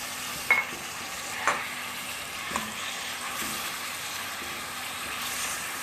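Chicken fries with garlic and ginger paste in a pan, a soft continuous sizzle broken by a few stirring scrapes and knocks, the first ones loudest.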